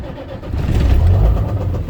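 International truck engine cranking and catching, a low rumble rising and settling into a rough run, close and fairly loud.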